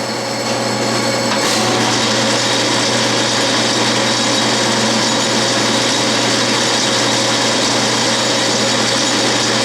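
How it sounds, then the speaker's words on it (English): A metal lathe turns a bell center punch, taking a light finishing cut off the diameter at a slowed feed, giving a loud, steady whirring machining drone that holds unbroken from start to end. "This is my second to the last cut. I'm taking off 20 thousandths off the diameter, and I've slowed the feed down about half."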